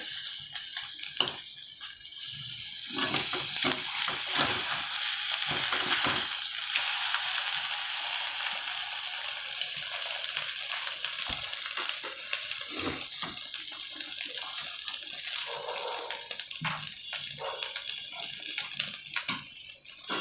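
Butter being stirred in a frying pan, a continuous hissing sizzle with scraping and stirring strokes throughout.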